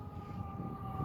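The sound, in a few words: ambulance sirens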